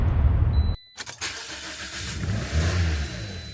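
A Toyota Corolla engine idles after repair with a steady low rumble, briefly cut off near the start before the running sound resumes and holds.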